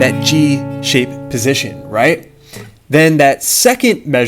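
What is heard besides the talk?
No distinct noise like a dog, phone or traffic.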